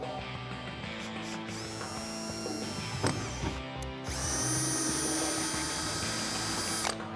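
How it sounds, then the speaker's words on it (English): Power drill with a 1/8 inch bit boring into a car hood on a 2018-2020 Mustang, close whining motor bursts that start and stop, with a louder sustained run in the second half. "Now I'm gonna go in with an 1/8 inch bit here and then bump it up a size"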